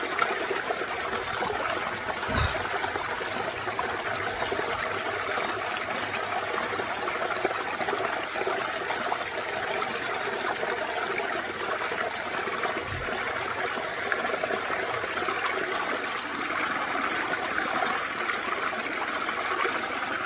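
Stream water pours steadily into a Pure Clear filter bottle at the woodland edge on a fell walk, a continuous close trickling and gushing wash with no voices.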